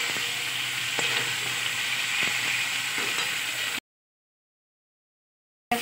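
Chopped tomatoes go into a hot pan of frying lata fish, a continuous close sizzle with a few sharp pops and stirring clicks, cutting abruptly to silence partway through.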